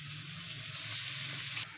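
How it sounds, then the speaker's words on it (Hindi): Beef liver (kaleji) frying in hot oil with garlic on a tawa, giving a steady, close, bright sizzle that holds evenly throughout with no voices. "ये ऑयल के अंदर अच्छी तरह से फ्राई होना शुरू हो गई थी और इसके साथ वो ऑयल उछल रहा था"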